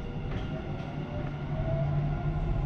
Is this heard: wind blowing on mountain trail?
no